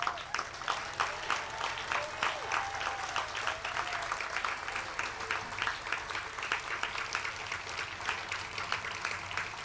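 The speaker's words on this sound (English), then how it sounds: "I want you guys to give them a warm applause." A crowd at an outdoor peace wall ceremony gives warm, steady applause to honorees standing in a row, with individual claps distinct in the sustained patter and a faint voice beneath.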